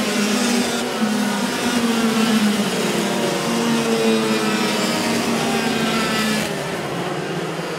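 Yamaha Super SS racing motorcycles during a race final, with engines roaring and whining steadily at high revs in a dense continuous drone that eases slightly near the end.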